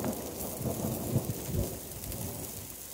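Rumbling thunder with steady rain at a campsite during a night storm, a low continuous roll under the patter of drops, with no voices.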